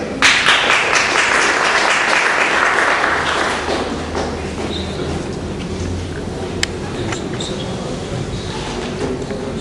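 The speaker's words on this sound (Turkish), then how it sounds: "Alkışlarınızla" Audience at a literary event applauds as a speaker is invited to the podium, a burst of clapping that fades after a few seconds into a room murmur with scattered thumps.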